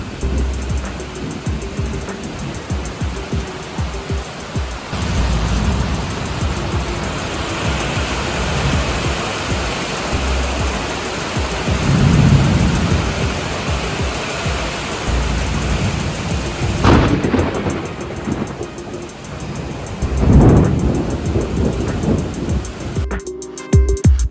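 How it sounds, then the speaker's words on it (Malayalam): Steady rain hisses over a rural backwater spot in Kainakary, Alappuzha, with a couple of low thunder rumbles swelling around the middle and end; no voices. "ഒരു മഴയ്ക്കുള്ള കോള് കാണുന്നു"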